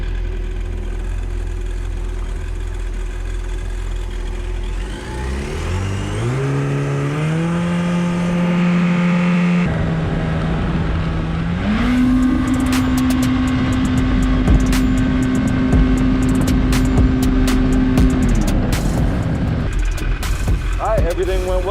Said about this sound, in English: I'm gonna go ahead and give her some throttle and